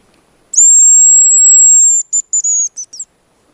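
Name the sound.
hazel grouse decoy whistle imitating the thinner female call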